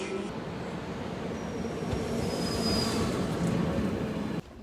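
A train carriage rolls along with a steady low rumble and faint wheel squeal, continuous and moderately close, with muffled background chatter, heard from inside the carriage.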